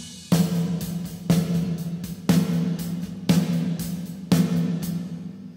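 A snare drum struck five times at a steady pace, each crack trailing into a long, shimmering reverb wash that fills the gaps between hits.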